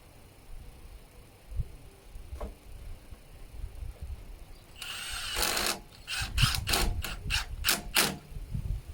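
Bolts being driven into the pre-drilled frame of a swing seat with an impact driver, heard as a series of short, loud mechanical bursts in quick succession after a quieter stretch.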